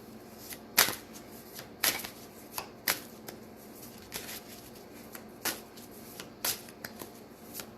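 Goddess Tarot cards being shuffled by hand, a run of crisp riffling bursts and soft slaps recurring every second or so, close and clear with no talk.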